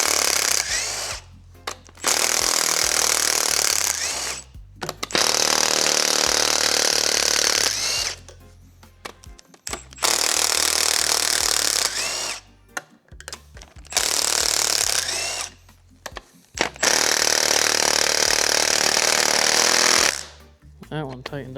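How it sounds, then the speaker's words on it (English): Impact wrench removing bolts from a 1958 Chevy pickup during a junkyard LS swap, firing in several long, loud buzzing bursts separated by brief pauses. "This bolts will come off with this little impact."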